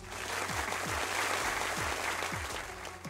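A short crowd applause sound effect gives a dense, steady burst of many hands clapping, loud and continuous throughout, with a low hum underneath.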